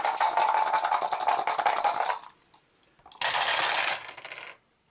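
Four dice rattle and clatter across a table during an Arkham Horror board game, a long loud tumbling burst followed by a brief pause and a second clattering roll that settles into silence.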